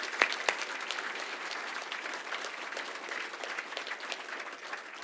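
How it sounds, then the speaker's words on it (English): An audience at a public forum conference opening claps for the event organizers, a couple of sharp nearby claps at the start then a steady, fairly soft wash of applause from a large room. "we want to give you a round of applause"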